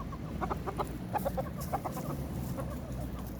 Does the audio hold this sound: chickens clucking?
yes